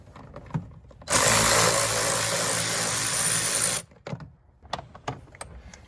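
A power tool with an 8mm socket drives out screws on the air box of a 2019 Chevrolet Silverado LD, one loud steady whir of nearly three seconds, then faint clicks and handling noises close by.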